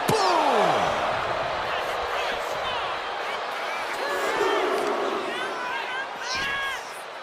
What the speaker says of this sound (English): Crowd riled up right now.